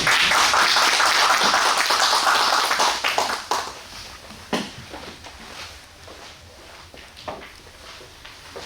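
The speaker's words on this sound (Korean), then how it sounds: "오늘 취재를 한 우리 순천 독립film 이종철 사장님께 큰 박수 부탁드립니다." Applause from an audience at a school centennial forum in Suncheon, a dense burst for about three seconds that breaks into scattered claps and taps, then fades to quiet room noise.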